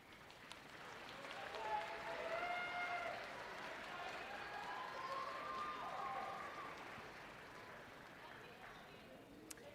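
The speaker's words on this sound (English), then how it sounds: "I invite you to turn and applaud your parents, families, and friends who've supported you through the years" Graduates at a fall commencement ceremony applaud their families and friends, a large hall of steady clapping that swells, holds for several seconds, then gradually fades, with faint cheering and voices woven in.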